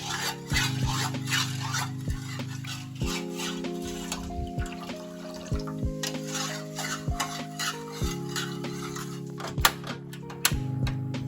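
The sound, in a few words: stirring water, jelly powder and sugar in a pot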